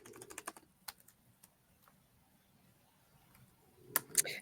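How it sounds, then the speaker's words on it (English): Keys clacking on a computer keyboard as a search term is entered, a quick run of clicks at the start, then a pause and a few more keystrokes at the end, soft and close. "we are going to type in bulk, not bulk QR"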